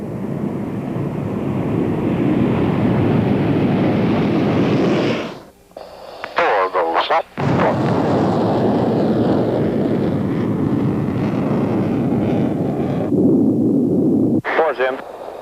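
General Dynamics jets of the Thunderbirds team roar at high thrust on the runway, a loud, broad, sustained engine rumble broken twice by radio calls, then surging again.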